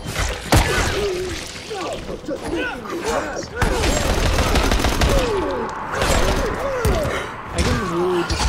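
Gunfire and impact thuds in the zombie video game Dying Light, with loud shots and bursts scattered through the clip amid game voices and effects.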